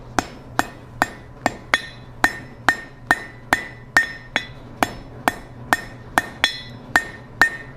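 Steady hammer blows ring out on white-hot mild steel being forge welded into a fire poker, about thirteen sharp metallic strikes at an even, rapid rhythm, close and loud, with a low fire hum beneath.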